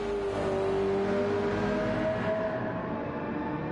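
Ferrari race car in the Gran Turismo video game at the Red Bull Ring, a steady high-revving engine drone with a sliding tonal whine as the pitch shifts, continuous and fairly loud.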